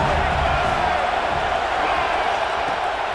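Stadium crowd in a college football video game, a dense, steady roar of many voices cheering and whooping continuously, loud and unbroken throughout, with speech mixed into the noise.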